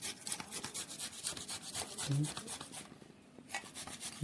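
A hand rubs back and forth against a surface in steady, rasping strokes, faint and close, with brief pauses between runs.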